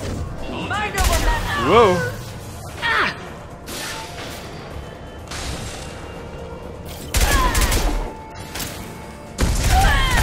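Enemy shotgun blasts in Mass Effect 2 go off in several loud, broadband bursts spread across the stretch, with heavy combat noise between them and a player's voice exclaiming once.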